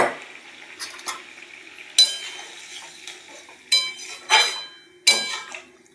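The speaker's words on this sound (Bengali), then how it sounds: "এখন তার মধ্যে দিয়ে দেবো পনিরটা যে জলে ভিজিয়ে রেখেছিলাম নুন হলুদ জলে সেটা দিয়ে দেবো" Soaked paneer, kept in salted turmeric water, is added to a simmering bottle gourd curry, bringing a few bright metal clinks of a spoon against the pan over a soft, steady bubbling.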